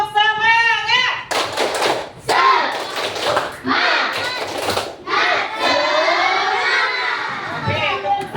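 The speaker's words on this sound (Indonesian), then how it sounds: "ibu mau tepuk semangat dulu" A class of schoolchildren claps a rhythmic group routine, bursts of sharp hand claps and taps mixed with children's shouting and cheering voices in a lively room, loud and close.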